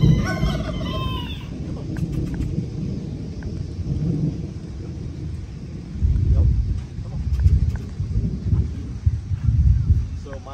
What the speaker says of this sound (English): Obviously, we have some rain coming in.